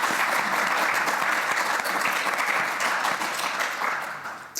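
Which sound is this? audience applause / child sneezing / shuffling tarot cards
audience applause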